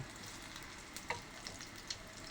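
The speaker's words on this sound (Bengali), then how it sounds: "ভাজা করছি, বেগুন ছেড়ে দিয়েছি, লাল লাল হলে নেমে নেব।" Eggplant slices fry in oil in a frying pan, giving a quiet, steady sizzle with a few soft crackles and pops near the mic and no voices.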